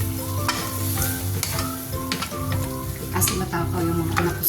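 Beef calderita, over a kilo of it, sizzles and fries in a pan with stirring scrapes and clatters throughout, steady and close, with a background hum and no talk.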